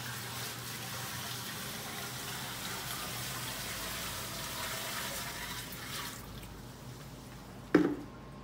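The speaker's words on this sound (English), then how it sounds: "I can feel that the pump is vibrating on there, so it's sucking it out." A sump pump draws water out of a sump pit, a steady gushing, watery churn that runs for several seconds, then fades into quieter trickling before a sharp knock near the end.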